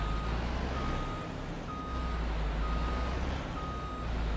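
Steady reversing beeps from a backing truck in Farming Simulator 25, repeating at an even rhythm over a constant low engine rumble as the vehicle backs toward a creek.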